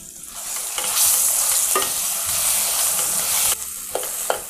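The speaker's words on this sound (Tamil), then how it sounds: "நான் ஒரு சின்ன பீஸ் வெல்லமும் போடுறேன்" A small piece of jaggery stirred into a sizzling mixture in a pan, with continuous close frying hiss under repeated scraping strokes of a spoon and a few light knocks, no voices.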